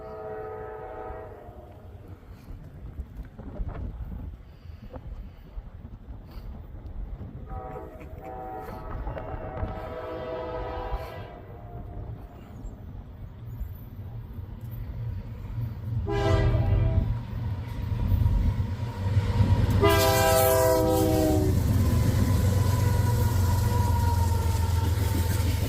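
A tank train carrying petroleum crude oil rumbles steadily past, its low rolling roar growing louder as a horn sounds in several long blasts, the last one loud and close near the end; no voices.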